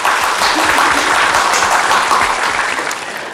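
A lecture audience breaks into loud, close applause at the end of a talk, a thick sustained roar of clapping that stays full before tapering off slightly toward the end.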